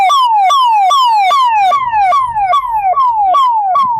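An ambulance siren passes on a badly damaged stretch of the old Dhoraji–Upleta road in Rajkot district, its loud, close wail falling and rising in rapid, regular cycles, with a low vehicle rumble beneath.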